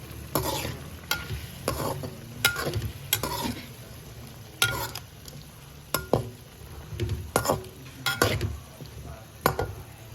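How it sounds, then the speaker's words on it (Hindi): Potatoes stirred into frying masala for aloo methi: a soft sizzle under repeated, irregular spoon scrapes and metallic clinks against the pan, close and fairly quiet, with nobody speaking. "अब इसमें आलू डाल दें। इसको अच्छी तरह मिक्स कर लें मसाले में।"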